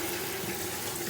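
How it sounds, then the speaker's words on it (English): Tap water runs steadily into a sink over cucumbers being rinsed, a continuous close hiss and splash with no voices. "now we just gotta rinse cucumbers"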